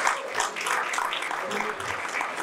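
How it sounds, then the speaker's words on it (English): Audience applause at an honors ceremony for two young honorees, moderate clapping mixed with cheering voices and crowd chatter. "let's give them a round of applause"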